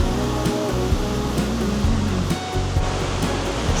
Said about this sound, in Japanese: こちらが涅槃の滝です